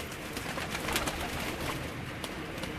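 Sahiwal racing pigeons, including prize-winning birds, coo softly and repeatedly over a dense, hissing background, with several birds overlapping close by and no talk.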